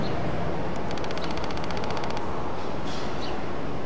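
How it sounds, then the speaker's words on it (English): A Neewer Q3 flash firing a rapid burst of shots in multi mode, heard as a quick evenly spaced train of sharp clicks lasting about a second over a loud steady background hiss. "it's like a mini machine gun that just bursts a bunch of shots off"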